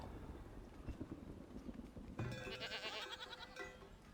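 Goats in the video game Farthest Frontier bleat faintly a few times over a soft bed of game ambience and clip-clopping livestock, with a bright tonal chime rising in the second half.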